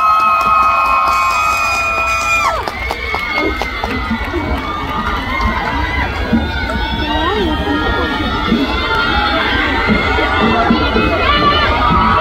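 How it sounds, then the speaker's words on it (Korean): A large crowd cheers and claps throughout a military dance performance at an Army festival. The roar stays loud and continuous, with shouting voices layered over the noise. "큰 박수 주세요"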